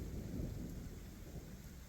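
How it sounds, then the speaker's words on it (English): Steady rain pouring down on an open trail in sunshine, with low distant thunder rumbling underneath, a soft continuous wash with no voices. "it's just raining on us"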